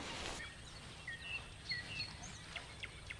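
A nightingale sings by a pond in April, faint scattered chirps and short whistled phrases drifting in from a distance over quiet outdoor stillness.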